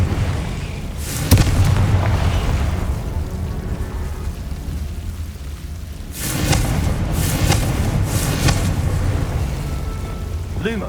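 Confringo fire spell explosions in Hogwarts Legacy, a burst near the start and then a cluster of several sharp booming blasts later on, all over a constant rumbling, rain-like game background.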